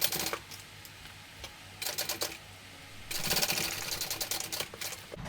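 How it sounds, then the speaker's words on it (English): Sewing machine basting fabric layers for a small cat pattern, running in short bursts of rapid stitching separated by pauses, with a longer burst toward the end. "I'm going to baste that on."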